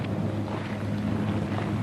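Gusting wind sweeps across a desert golf course in a steady, rushing roar that buffets the microphone throughout, with no talking.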